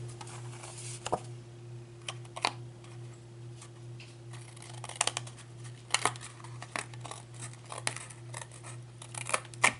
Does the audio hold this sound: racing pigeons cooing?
no